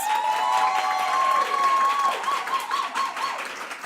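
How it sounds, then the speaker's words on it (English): Applause and cheering from a crowd at a graduation ceremony for Standard Bank Higher Certificate graduates, loud and sustained at first and then thinning slightly toward the end. "I would once again like a big round of applause for all the Standard Bank graduates"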